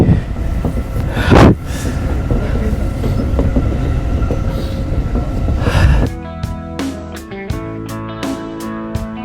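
A train rumbles along loudly with rhythmic clatter, then the noise cuts to a sequence of sharp, evenly spaced mechanical clicks and tones.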